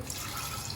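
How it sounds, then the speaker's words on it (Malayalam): Water poured into a pan while cooking jackfruit seed halwa, a soft steady trickle and splash, faint and continuous. "വെള്ളം ഒഴിച്ചു കൊടുക്കാം."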